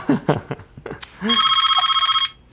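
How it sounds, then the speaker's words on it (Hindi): A telephone rings in one sustained trilling burst lasting about a second, following a few short spoken words, clear and close. "जरा फोन आ गया कोहली जी का।"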